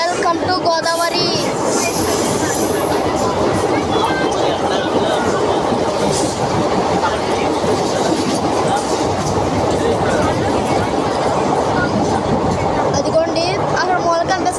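A train rolls across the Godavari road-cum-railway bridge, a steady loud rumble of wheels and carriages throughout, with rhythmic clatter and occasional higher squeal.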